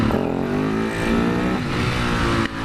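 Supermoto motorcycle engine revving hard during a wheelie attempt, a loud close droning roar that rises and falls in pitch as the throttle is worked, then cuts off briefly near the end.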